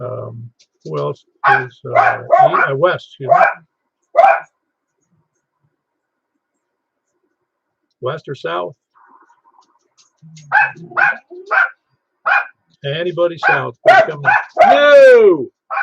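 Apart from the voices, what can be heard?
dogs barking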